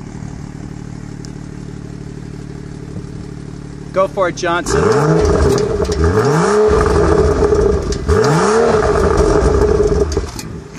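A 2015 BMW 435 convertible with an M Performance exhaust starts and revs hard in two or three loud rising bursts that fall back between them, close by, with someone speaking briefly before the revs.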